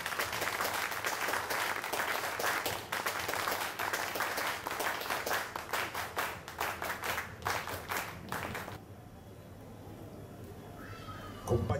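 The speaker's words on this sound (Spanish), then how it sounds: "¡Fuerte las palmas, compañero!" A crowd at a political rally claps hard and continuously, a dense ragged patter that breaks into a few distinct claps near the end before dropping to quieter room noise, with voices faintly underneath.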